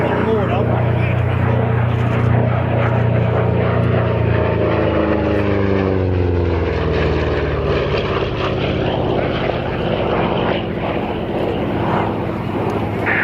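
A WWII P-47D Thunderbolt propeller fighter flies past at an airshow, its deep radial-engine drone swelling and shifting in pitch as it passes, loud and sustained, with a voice commenting over it.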